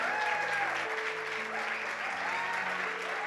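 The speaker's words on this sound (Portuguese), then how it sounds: "Dá uma salva de palmas para esses meninos também." A church congregation applauds a band after a worship performance, steady sustained clapping from a full room, with tonal music or voices lingering beneath it.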